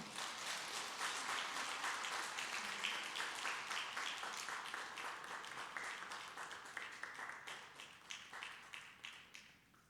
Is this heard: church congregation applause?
yes